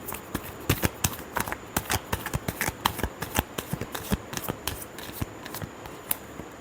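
Tarot cards are shuffled by hand up close, a steady stream of crisp riffling slaps and papery clicks for several seconds with no voice.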